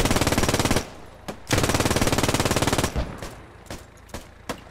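MG 42 machine gun firing in the Post Scriptum video game, two long rapid bursts close and loud, followed by scattered distant shots.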